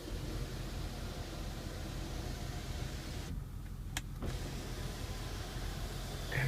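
A car's electric moonroof slides open with a smooth, steady motor whir inside the cabin, broken by a brief quiet stretch and a click, with no talking.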